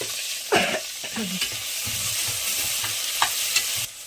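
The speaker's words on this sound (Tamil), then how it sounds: "வெங்காயம் பச்சை மிளகா போட்டு நல்லா வதங்கி இருக்குது" Onions and green chillies sauté in a pan for chicken biryani, giving a steady, close sizzle with scraping spoon strokes and a few louder clacks of stirring.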